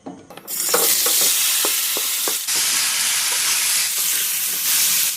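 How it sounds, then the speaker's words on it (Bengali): Raw green jackfruit pieces dropped into hot oil in a kadai and stirred: a loud, steady sizzle and hiss, broken by sharp clatters of the spatula against the pan. "এবার এঁচোড় ভেজে নেব।"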